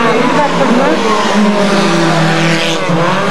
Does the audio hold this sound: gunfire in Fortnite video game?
no